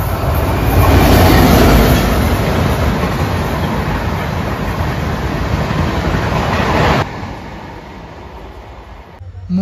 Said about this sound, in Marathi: मुंबईवरून येणारी दिवा ट्रेन पकडून पोचलो 7:15 सावंतवाडी रोड स्टेशनला